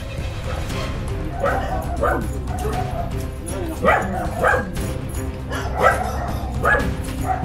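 Dogs bark and yip repeatedly at moderate distance, with some whimpering, over steady background noise, and a little talk is mixed in.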